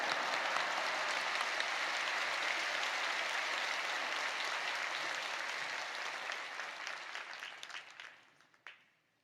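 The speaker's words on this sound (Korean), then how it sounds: "큰 박수로 목사님 맞이하시겠습니다" A large congregation at a Friday evening service in Yoido Full Gospel Church applauds warmly to welcome the pastor, a steady roar of clapping that carries for several seconds and then tapers off into scattered final claps.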